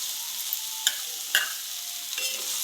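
Spices and tomato paste stirred in a frying pan for an egg, potato and cauliflower curry, a soft steady sizzle broken by a few scraping strokes of the spoon, close and without talk.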